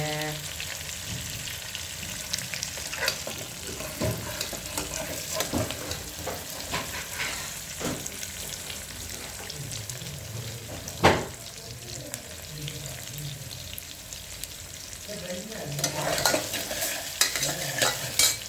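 Onions frying for tomato rice, stirred repeatedly in a pan: continuous close sizzling with frequent scraping and clinking of the spoon, one sharp knock standing out.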